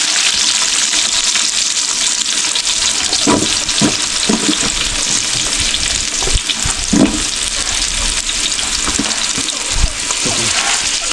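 Onions frying in coconut oil for a village-style Sri Lankan dum biryani: a constant loud sizzle with occasional clattering stirs and knocks from the pan.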